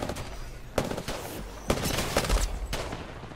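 Automatic gunfire rattles in Apex Legends on the E-District map, with rapid bursts and several sharp shots over game noise, loud and close.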